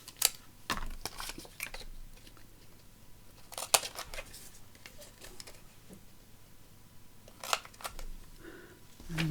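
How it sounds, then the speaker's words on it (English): Scissors snipping the corners off decorative paper for a fabric-and-lace journal, giving several sharp, close clicks and snips spread out between quiet pauses, with faint paper rustling. "So I'm just going to trim off my corners."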